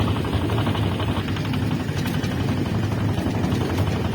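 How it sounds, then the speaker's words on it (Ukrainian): Walk-behind tractor engine knocking while hilling potatoes with a homemade hiller, a loud, close, continuous rapid thudding chug with steady rhythm. "Навіть не бояться стукоту мотора від мотоблока."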